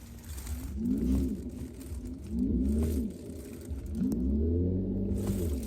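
Synthetic 'Silver Wave' driving sound of a Mercedes EQE350+ electric car: gliding tonal swells that rise and repeat about every one and a half seconds over a low rumble, steady and fairly close, with no talking.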